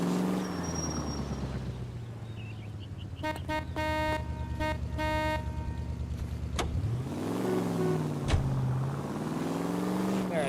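A convertible's engine hums steadily while driving in the 1940s-era video game LA Noire, with a horn-like toot briefly in the middle and a person talking over it.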